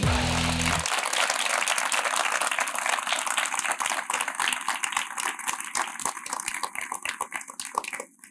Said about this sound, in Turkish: Ben de alıştım abi alkışlara valla.